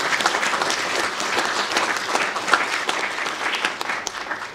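A round of applause from the audience at a speaker series talk on oyster restoration, a full, steady crackle of many hands clapping close by for the whole stretch.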